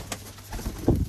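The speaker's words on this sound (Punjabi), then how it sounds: "ਚੱਕ ਦੇ ਫਟੇ ਲੀਲਾ, ਸਪੈਸ਼ਲਿਸਟ ਬੁਲਾਇਆ ਬੰਦਾ, ਕਹਿੰਦੇ ਕਬੂਤਰ ਫੜਨ" Pigeons coo softly in short, low murmurs while being caught, with a few brief fluttery rustles close by and no talk.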